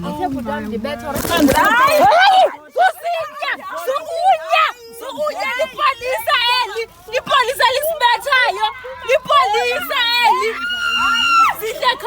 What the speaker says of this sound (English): You can hear me shouting.